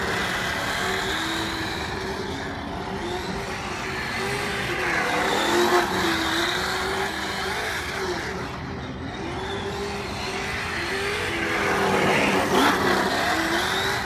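A Traxxas Slash 4x4 RC truck driven hard on the throttle, its electric motor whining loudly and steadily, rising and falling in pitch as it accelerates and turns, with faint tire scrub throughout.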